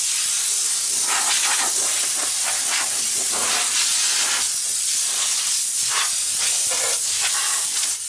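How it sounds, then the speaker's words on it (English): An air blower blasts a powder-coated part, giving a loud, steady hiss of rushing air that keeps going with small surges in strength. "this air blower can blow off"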